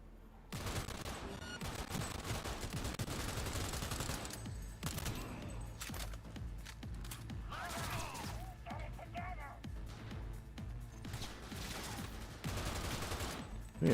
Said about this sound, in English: We are shooting our way out of this one.